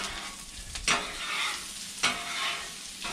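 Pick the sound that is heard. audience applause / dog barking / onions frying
onions frying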